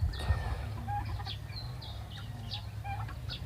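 Turkeys feeding on grass and azolla at a farm give scattered short calls and clucks over a steady low rumble, moderately close, with no talk.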